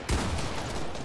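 A burst of gunfire in the battle royale video game Fortnite, a loud rapid fusillade of shots rattling together over about a second with no voices.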